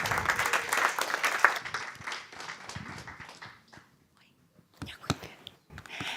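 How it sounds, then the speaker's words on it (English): An audience at a tech night event claps loudly and briefly. The clapping fades after about two seconds into quiet murmuring, then a few scattered sounds and voices follow. "round of applause to Sofia"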